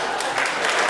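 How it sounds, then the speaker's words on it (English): The audience at a Cambridge Union debate applauds, with dense clapping in a short, loud burst from a crowd filling the hall. "I'll happily take applause whenever you want"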